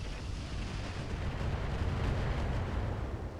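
A weapon shot in the mech strategy game RogueTech lands as a loud, dense rumbling blast that swells and sustains across the whole moment, heavy and booming like artillery fire, with no talking.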